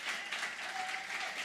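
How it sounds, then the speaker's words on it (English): A church congregation applauds steadily through a worship service, a dense, continuous clapping that holds at an even level from start to finish with no voices over it. "keep clapping."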